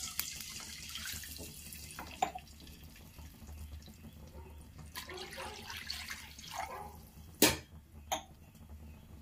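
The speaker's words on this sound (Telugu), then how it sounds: "అదే కడాయిలోకి 4 కప్పులు నీళ్లు పోసుకోవాలి." Four cups of water are poured into a kadai for semiya payasam, giving a running, splashing trickle in a kitchen. It ends with a couple of sharp metallic clinks, and nobody speaks.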